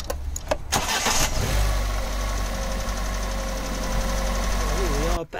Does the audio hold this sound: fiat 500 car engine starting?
yes